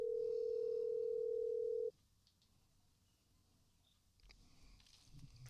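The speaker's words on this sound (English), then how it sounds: "All right, so let's make a phone call." A steady telephone dial tone holds for about two seconds while a call is placed during a radio show, then cuts off abruptly into quiet line hiss with faint clicks.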